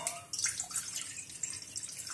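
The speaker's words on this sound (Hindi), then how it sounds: "हमने दो कटोरी पानी लिया है, और ये जो दो कटोरी शक्कर है ये इसमें हम डाल देते हैं।" Water splashes and trickles into a pan for sugar syrup for boondi, a short liquid pour with dripping, fairly close and moderate.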